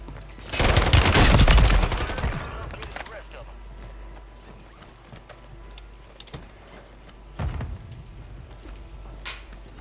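Burst of gunfire in a Call of Duty match, loud and dense for about two seconds, then scattered quieter shots and a second short burst near the end.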